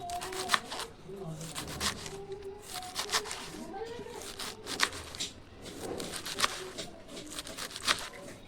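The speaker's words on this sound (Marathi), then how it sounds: "पहिला आपण कोबी कापून घेऊया मस्तपैकी बारीक कापून घ्यायचे" Cabbage chopped finely with a knife while making momos, a run of quick crisp cutting strokes in bursts, fairly quiet, with people talking over it throughout.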